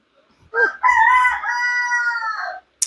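A rooster crows once, loud and close, its long drawn-out call rising then trailing off, with a brief click at the end.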